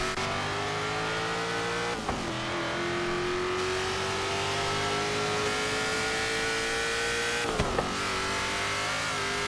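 A Hot Wheels Mustang roars in Forza Horizon 3, a loud, sustained engine drone with steady revving and brief gear-shift dips, continuous throughout with no voices.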